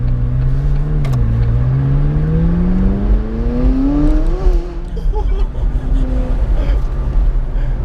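McLaren 570S Spider with a 3.8-litre twin-turbo V8 accelerating hard, engine note climbing through a gear, a brief dip at a shift, then rising again, heard loud from inside the car.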